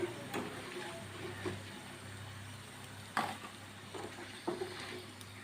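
Potato pieces frying in hot oil give a steady low sizzle throughout, with a few louder scraping clacks as the fried pieces are stirred and scooped out of the pan.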